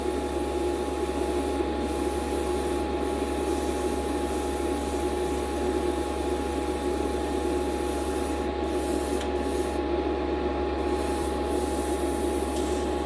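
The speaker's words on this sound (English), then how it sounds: "Spray a little bit out into the booth." A steady, fine hiss of an airbrush spraying thinner into a spray booth to clean the needle, continuously, with a faint background hum and a few brief bursts of louder air.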